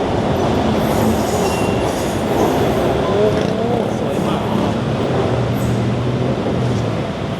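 A train pulls in with a rumbling roll and brief wheel squeals beside a busy nightlife street in Thailand, a steady loud rail noise close by.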